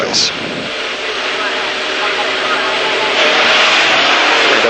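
Formula Vee race cars pull away from the starting grid at Amaroo, a loud, continuous engine roar that builds and holds across the whole stretch, with no talk over it.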